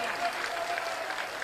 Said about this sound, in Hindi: गर्व से एक बार बिहार के लोगों के लिए ताली बजानी चाहिए